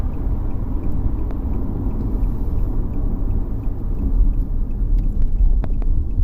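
A 2016 Kia Soul's 2.0L engine holding steady at 3,000 RPM while driving despite a no-power fault, a constant low droning rumble with road noise and a few faint clicks.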